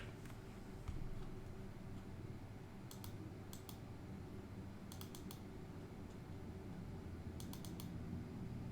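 Soft keystrokes tap on a computer keyboard in short clustered bursts separated by pauses, faint and close against a low steady room hum, with no voices.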